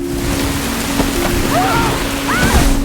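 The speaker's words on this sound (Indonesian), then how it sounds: "Namun di keesokan harinya hujan badai pun menerjang hingga membuat camp mereka acak-acakan." A rainstorm lashes a makeshift camp on an uninhabited island, a loud, dense roar of rain and wind with water-like rushes and a few brief whooshing streaks throughout.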